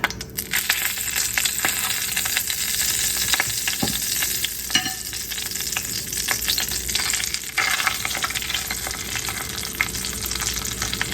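Pork chops fry in hot vegetable oil in a skillet, a loud continuous close-up sizzle with crackling pops and occasional scraping stirs, no voices.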